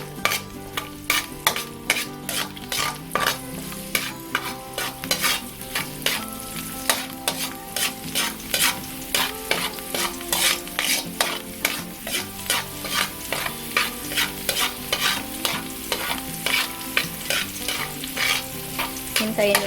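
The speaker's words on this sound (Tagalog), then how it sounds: "Ngayon ay hahaluin na natin." Garlic frying in reused oil in a pan while being stirred, a rapid regular series of utensil scrapes and clinks over a constant sizzle, close and alone without speech.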